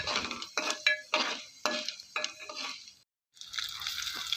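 A spoon scrapes around a pan as dried red chillies are stirred into the tempering for a potato fry, in about six quick close strokes, then a short silence before a soft sizzle resumes.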